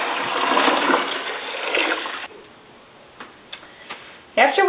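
Water pours steadily into a winemaking fermenting bucket for about two seconds, followed by quieter clicks and taps, then a brief voice at the end.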